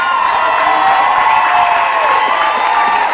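A loud crowd at a university commencement ceremony cheers and applauds its graduates, a dense roar of shouts, whoops and clapping that stays high and unbroken throughout.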